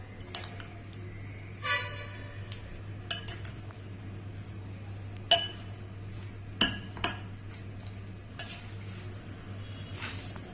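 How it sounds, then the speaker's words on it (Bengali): A spoon or fork working flour into a batter in a bowl, scattered clinks and scrapes against the side at an unhurried pace over a faint background hum, close and quiet, no talking. "তো আমি এবার আস্তে আস্তে করে এটা মিশিয়ে নেবো।"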